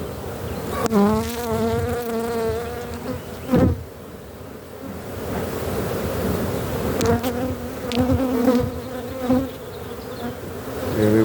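Honey bees buzz loudly as they pour out of an opened hive, a dense, continuous droning swarm close by with wavering pitch and occasional sharper bursts as individual bees pass near.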